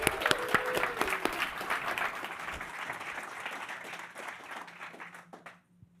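Audience at a startup accelerator demo day applauds warmly, dense clapping with a few whoops that fades out over several seconds.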